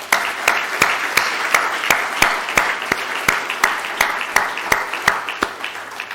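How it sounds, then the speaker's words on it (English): Audience applause at a keynote address on launching the ISSB Standards: a steady wash of clapping with sharp, regular loud claps standing out on top, sustained evenly throughout. "they deserve a huge round of applause"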